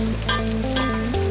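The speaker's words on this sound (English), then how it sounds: "So this frying would take approximately 4 to 5 minutes depending on the quantity." Chopped onions fry and brown in hot oil in a pan for a rice dish, giving a steady, close sizzle that holds at one level throughout with no voices.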